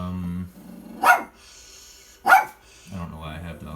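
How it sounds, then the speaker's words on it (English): Dogs bark at a home garden, with two sharp, loud barks spaced about a second apart. A person talks before, between and after them. "Stop barking! You're ruining my video!"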